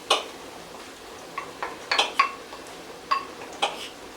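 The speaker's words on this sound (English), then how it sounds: "Now I'm going to put that beef back in." Beef dropped back into a pan of sweated onions for a Thai beef massaman, giving a few scattered clinks and scrapes of utensil on pan with a faint sizzle, close by and without speech.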